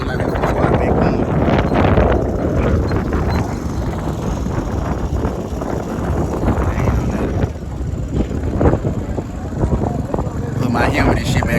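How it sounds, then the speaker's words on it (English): Heavy, continuous wind buffeting the microphone on an ATV tour near Las Vegas, a loud low rumble that persists throughout with no clear speech. "It's like it's a big wind."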